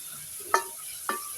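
Garlic ginger paste frying in ghee for dhaba-style mash dal, with a soft steady sizzle and two brief sharp scraping stirs close by.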